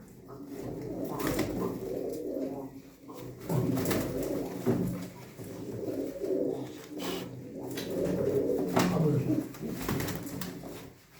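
Several pigeons coo nearby in low, throaty, repeated rolls, overlapping one another with occasional sharp rustles and clicks in between.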